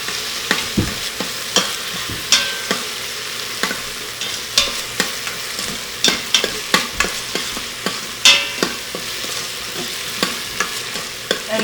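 Tomatoes and onions fry in an Instant Pot with a constant close sizzle, while a utensil scrapes and taps the pot in a steady rhythm of repeated stirring strokes, with no speech.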